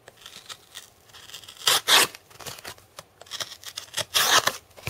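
A Kershaw Chive pocket knife on its factory edge slicing through material, giving close, rasping tearing strokes in uneven bursts, with two louder rips standing out amid quieter scraping, and no talking.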